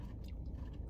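Close, quiet chewing of Chick-fil-A fries that are soft rather than crunchy, with soft moist mouth sounds and small clicks over a low rumble.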